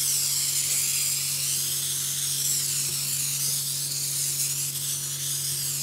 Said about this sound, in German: wenn wir das Ganze jetzt hier mal mit dem Gravity einsprühen.